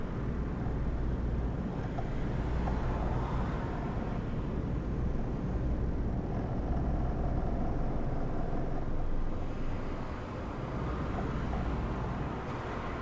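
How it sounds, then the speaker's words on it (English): Steady road traffic and truck engine rumble in the Euro Truck Simulator 2 driving game, a continuous dense drone with no speech over it. "There's a lot of traffic there."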